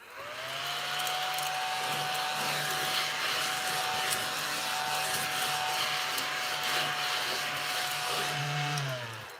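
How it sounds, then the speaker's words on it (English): A small ladybug-shaped handheld vacuum whirs steadily at close range with a high motor whine, starting up, running evenly for several seconds, then winding down. "My little handy dandy ladybug vacuum"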